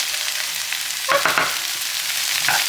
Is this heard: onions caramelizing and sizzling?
yes